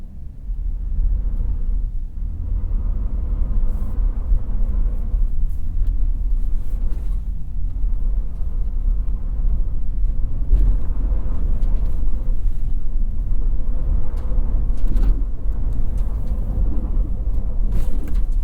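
A 2024 Ford F-150 STX pickup with the 2.7 EcoBoost engine and two-wheel drive climbs a steep hill, its engine giving a steady, loud low rumble that holds throughout with no talking.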